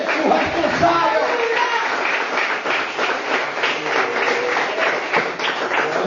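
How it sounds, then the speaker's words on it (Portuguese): Church congregation applauding during a sermon, a continuous, loud bed of clapping with voices mixed in throughout. "Palmas para o Senhor Jesus."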